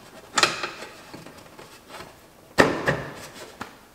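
A firewall guard being pushed into the frame of a Polaris XP Pro side-by-side, giving two sharp plastic-and-metal knocks and scrapes about two seconds apart, close and fairly loud, with a few softer rattles between.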